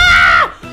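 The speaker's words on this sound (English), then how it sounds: "I was just screaming at something else." Cartoon character lets out a loud, sustained high-pitched scream that slides downward and cuts off, followed by a brief faint sound.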